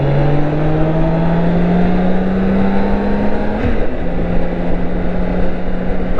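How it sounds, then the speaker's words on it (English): A BMW K1600 inline-engine motorcycle on a night ride, its engine a steady, loud drone that rises slowly in pitch as it pulls, with a brief dip midway and wind rushing throughout. "Oh, I love the sound of inline engines."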